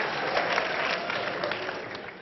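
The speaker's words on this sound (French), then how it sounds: "Applaudissez pour vous-même." A comedy show audience at a cinema hall claps in a dense, continuous round that sounds slightly muffled and tapers off gently near the end.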